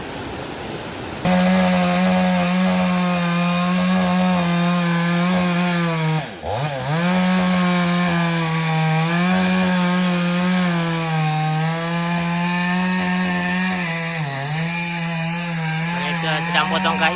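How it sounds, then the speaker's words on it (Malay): Wood being sawn at a riverside semi-wild campsite to prepare firewood for cooking lemang, a long, steady, loud rasping drone of a motorized saw that briefly dips mid-cut and runs continuously near the listener. "Sedang potong kayu sebab nak masak lemang."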